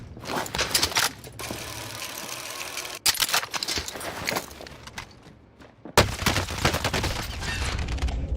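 Rapid bursts of automatic gunfire in the Warzone video game, loud chattering volleys broken by short pauses, with one sharp burst that starts abruptly near the end.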